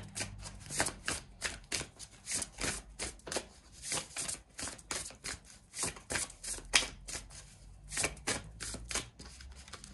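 An oracle card deck shuffled by hand, close and steady, with a rapid, continuous riffle of papery slaps pulsing in regular bursts for the whole stretch and no voices.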